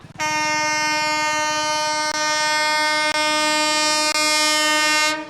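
Loud, sustained horn of a train on the Grand Chord railway line near Gaya Junction, a steady multi-tone blast holding for about five seconds with a few brief clicks, close and alone without speech.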